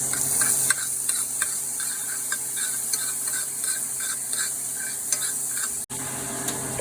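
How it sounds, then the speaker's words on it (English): Onions with added garlic sauté in a pan, a steady moderate sizzle broken by regular scraping strokes of a spoon or spatula and one sharp knock near the end. "Next, we're gonna saute these onions. Add some garlic."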